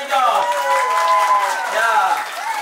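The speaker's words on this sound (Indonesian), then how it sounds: "Tepuk tangan, very good." Crowd of participants at a one-day English and character camp breaking into applause, dense clapping mixed with excited voices and cheering throughout, close and loud.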